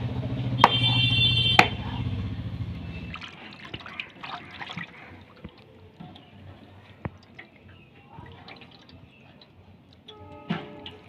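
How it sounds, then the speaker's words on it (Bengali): Boneless chicken pieces are rinsed whole under running water in a kitchen. A few seconds of close gushing and splashing give way to sparse drips, light squishes and small clinks. "আমি আগে গোটা গোটা ধুয়ে নিলাম"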